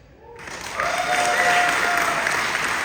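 An audience bursts into applause after a quiet start, the clapping swelling within a second into dense, sustained crowd clapping that stays loud to the end, with no clear talk over it.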